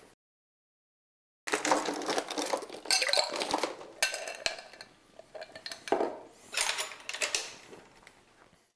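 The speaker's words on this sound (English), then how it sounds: "So let's go ahead and stir this up." Ice clinks and rattles against a mixing glass as a Trident cocktail is stirred, a steady clatter of close, moderately loud taps beginning after a short silence.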